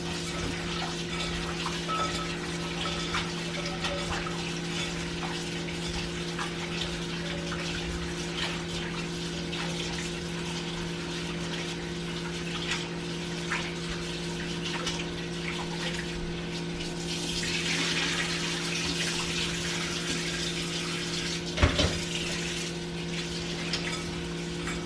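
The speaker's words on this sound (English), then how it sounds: "I'm gonna just put like warm water in it because they're completely frozen." Warm water runs steadily from a tap into a container of completely frozen okra in a kitchen, a constant close hiss and splash with a low mechanical hum beneath it, brightening briefly near the end.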